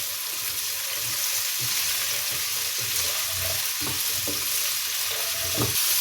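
Cauliflower florets fry in hot oil in a pan for an aloo gobi, giving a steady loud sizzle broken by several scraping stirs of a spoon near the end, with no talking.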